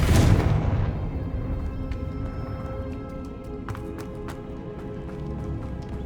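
A Confringo blasting spell goes off in Hogwarts Legacy as one loud burst at the start, then a long rumbling decay with scattered small clicks and pops, and no one speaking.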